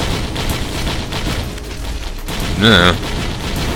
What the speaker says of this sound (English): Here, have some missiles.